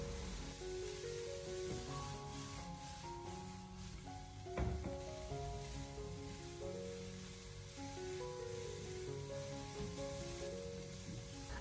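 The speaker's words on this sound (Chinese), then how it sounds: "我们给它持续的翻炒一小会，把花菜炒出锅气，" Cauliflower stir-fries over high heat in a wok with a continuous soft sizzle and a brief clatter of the spatula, partly masked by background music.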